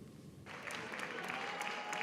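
Applause breaks out in a parliamentary chamber after a constitutional accusation vote passes, a dense wash of many hands clapping that starts abruptly about half a second in and holds steady to the end, fairly distant and moderate in level.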